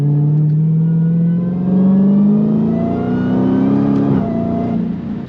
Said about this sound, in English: just a bit so the supercharger can scream like real loud